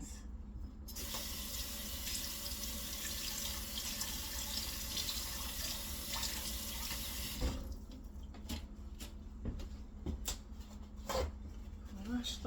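A kitchen tap runs into the sink while potatoes are rinsed under it, a steady close gush that stops abruptly, followed by soft clinks and drips, with a person talking nearby.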